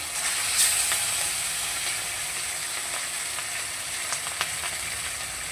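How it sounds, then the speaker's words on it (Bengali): Fish frying until crisp and red in a hot wok, a steady close sizzle with broad hiss and a few sharp pops and spatters throughout. "মাছগুলোকে এবার লাল করে ভেজে নেব"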